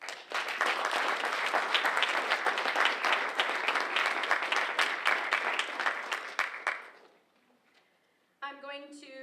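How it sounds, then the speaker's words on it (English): An audience at a senior awards event gives a round of applause for teachers, a dense wash of clapping that lasts about seven seconds and then dies away, followed by a brief moment of speech. "So I would just like to give them a round of applause for everything they have done."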